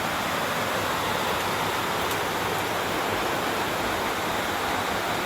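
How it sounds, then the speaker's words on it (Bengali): Heavy midday rain pours down outdoors, a loud, steady broadband roar that stays unbroken from start to finish with no voices. "প্রচুর পরিমাণে বৃষ্টি হইতেছে দুপুরবেলা।"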